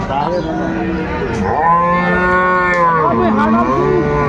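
A dairy cow at the Aftabganj cattle market in Dinajpur gives a long, loud, close moo that rises and wavers, with market bustle faintly underneath.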